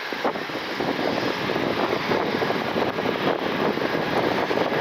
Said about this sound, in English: They're heading to runway 24 left for departure.